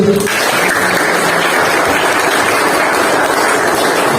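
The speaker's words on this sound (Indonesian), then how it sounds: "Baik, tepuk tangan dulu buat Messi." A classroom of students applauds a classmate in a steady, loud, dense wash of clapping that lasts throughout without pause.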